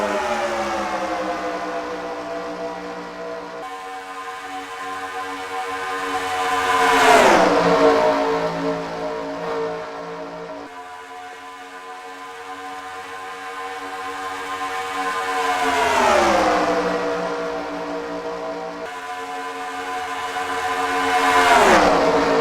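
Race cars in a crash replay from an auto racing broadcast, heard as loud engines sweeping past in repeated rising and falling passes with steady roar between them.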